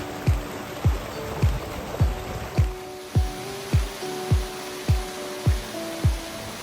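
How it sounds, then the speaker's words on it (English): Waterfalls and pools spill down toward a reservoir on a Hong Kong bike trail, a steady broadband rush of flowing water under a regular series of low, sharp thumps repeating about twice a second. "At the bottom we find pools and waterfalls heading down to the reservoir."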